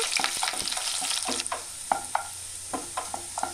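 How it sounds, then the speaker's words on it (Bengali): Two garlic cloves frying in oil with nigella seeds for a spinach dish, a close hissing sizzle broken by quick repeated spatula scrapes and taps as the pan is stirred. "এবার এর মধ্যে দুটো রসুন দিয়ে দেব, ভালো করে নেড়ে নেব।"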